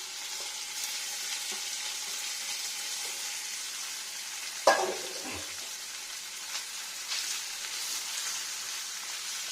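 Pakoras frying in oil over slow heat, a continuous soft sizzle with one sharp clink or splash partway through, otherwise even and unbroken.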